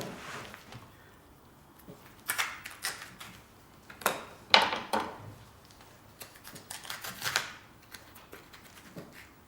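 A knife cutting into the joint of a beef carcass, heard as a series of close, irregular scraping and slicing strokes with brief crisp rasps between quieter pauses, and no talk.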